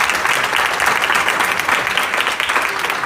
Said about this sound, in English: let's just give them a huge round of applause